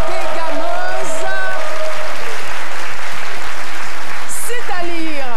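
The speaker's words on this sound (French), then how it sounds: "Merci d'applaudir très fort Priscille la dégameuse." Loud, sustained applause fills a studio during a live television variety show, a continuous wash of clapping from the audience carrying on for several seconds, with faint voices mixed in.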